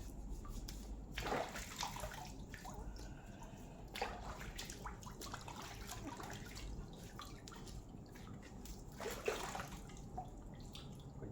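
Freshly dug galangal rhizomes are washed in water, giving faint splashes and sloshing in a few separate bursts over a quiet, steady background of dripping and trickling water.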